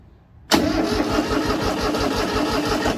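An old, roughly 30-year-old Daedong 19 hp tractor with a hard-starting fault fires up close by, abruptly catching after a brief quiet moment and settling into a loud, steady, rhythmic diesel chugging with no talking.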